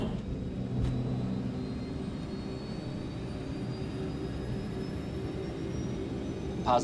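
A jet airplane's engines roar steadily during takeoff with a low rumble and a rising whine, heard continuously for several seconds without speech.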